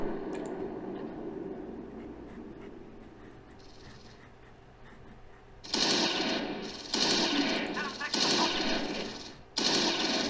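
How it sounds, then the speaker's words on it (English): Gunfire in the Close Combat 4 Battle of the Bulge war game comes as loud bursts of rapid automatic shots in the second half, following a quieter stretch of low rumbling battlefield ambience. "Shooting."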